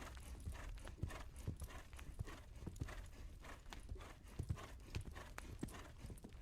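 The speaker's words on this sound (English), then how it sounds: "Ash flicked her reins, her horse neatly shifting to a harsh gallop." A single horse moving at a quick gait, hooves striking in a steady clip-clopping rhythm of sharp knocks, fairly close but quiet, with soft snorting breaths between the beats.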